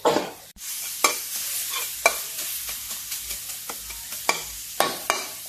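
Chili and garlic stir-fry in a hot pan for a Thai drunken eel dish, a loud continuous sizzle broken by regular scraping, tossing strokes of a utensil against the pan, with no voices.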